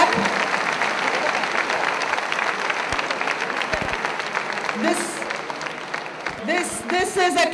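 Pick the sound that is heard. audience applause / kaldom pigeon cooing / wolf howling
audience applause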